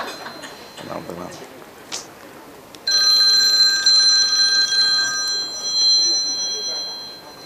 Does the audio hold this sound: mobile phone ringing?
yes